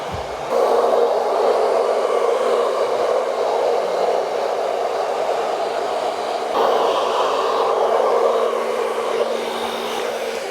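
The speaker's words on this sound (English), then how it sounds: "I'm going to use the diffuser to dry this because I want to get that real natural curl in there" A hair dryer with a diffuser attached runs on medium speed and high heat, blowing a steady loud airy whoosh that keeps on without a break, with a slight change in tone partway through.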